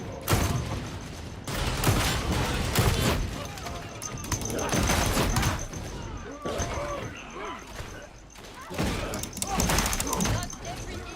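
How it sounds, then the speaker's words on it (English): Gunfire from the video game Warhammer 40,000: Darktide comes in loud, dense bursts and rapid volleys with short gaps between them, mixed with mechanical clatter while voices talk over the shooting. "You're shooting the wrong guy, Psyker!"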